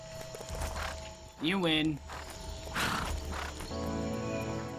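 A horse in LEGO Marvel Super Heroes 2 lets out one loud, wavering neigh over steady game noise and clip-clopping hooves, with a few brief spoken words nearby.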